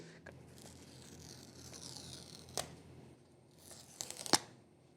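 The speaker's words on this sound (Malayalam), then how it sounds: "ആദ്യം നമുക്ക് iPhone 16 അൾട്രാ മെറൈൻ എന്ന് പറയുന്ന ഈ ഒരു കളർ അൺബോക്സ് ചെയ്യാം" Packaging is torn open while unboxing an iPhone 16 in Ultramarine, giving faint rustling and soft ripping followed by a few sharp tearing snaps near the end in a quiet room.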